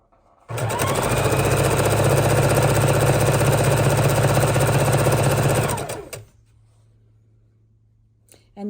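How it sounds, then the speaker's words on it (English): A sewing machine runs in one steady, loud burst for about five seconds as quilt border strips are stitched, then stops and leaves a quiet low hum. "we're just going to go ahead and sew down these strips."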